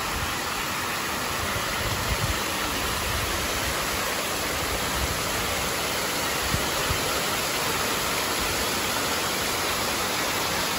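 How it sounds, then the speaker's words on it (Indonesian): Waterfall in the Singapore Botanic Gardens, a steady loud broadband rush of falling water that fills the whole stretch without pause, no voices heard. "Air terjunnya."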